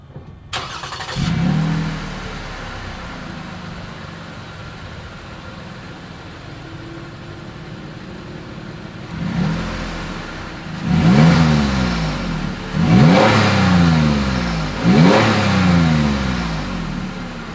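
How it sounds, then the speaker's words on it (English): A 2020 Lexus RX 350 F Sport engine with dual exhaust idles with a low rumble, then revs up several times in a row, each rev rising and falling, loud and close, with a deep exhaust note. "As always, here is that exhaust clip."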